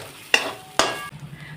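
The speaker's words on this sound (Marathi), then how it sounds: "आता हे सगळे मसाले चांगले तेल सुटेपर्यंत याच्यात भाजून घ्यायचे." Ground spices roast in oil for a Maharashtrian rassa, with two sharp scraping strokes of a spoon against the pan over a soft background sizzle.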